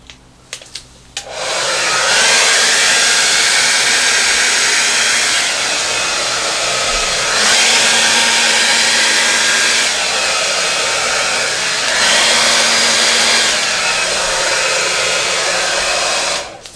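A hair dryer blows across wet acrylic paint poured on an 18x24 canvas, a loud steady roaring whoosh that swells slightly twice and cuts off near the end.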